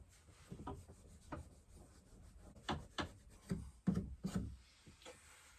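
Soft, irregular rubbing strokes of a cloth buffing wax into a wooden surface, close and quiet, with short bursts separated by brief pauses.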